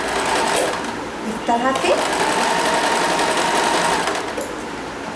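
An electric sewing machine runs steadily, stitching a cloth dhoti for a Krishna or Ram deity idol, with a brief pause midway; someone speaks briefly over the whirring motor.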